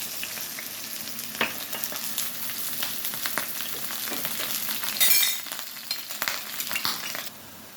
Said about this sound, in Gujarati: થોડું તેલ ગરમ થાય એટલે અંદર આપણે કાંદાની મેં ક્રશ કર્યા છે તે અંદર નાખી દઈશું.